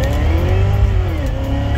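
A Cadillac CTS-V with an LT4 engine accelerates hard during a ride, a loud, close engine roar rising in pitch, heard from inside the car and filling the whole short burst.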